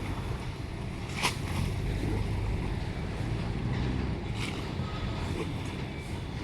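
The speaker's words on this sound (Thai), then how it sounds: "นี่ก็เป็นเรือโดยสาร" A passenger boat motors along a calm river in Bangkok, its steady low engine rumble and water wash continuing evenly and fairly faint throughout, with no voices.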